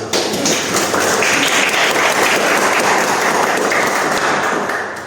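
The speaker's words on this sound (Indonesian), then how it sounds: "Oke, kita tepuk tangan dulu." A classroom full of students breaks into loud, dense clapping that runs continuously for about five seconds before tapering slightly at the end.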